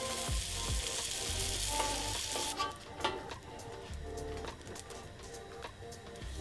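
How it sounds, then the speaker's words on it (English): Buttered bread, seasoned with salt and pepper, goes butter side down onto a hot griddle and sizzles loudly and steadily up close, then the sizzle thins into a quieter crackle with a few soft knocks, and no one speaks. "we're gonna put it to toast right on the griddle"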